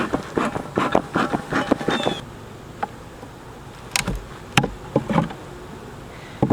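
Honey bees in an opened hive after smoking, a dense buzzing hum with scattered louder wingbeat passes close by, livelier for the first two seconds and then settling under intermittent sharp clicks and knocks.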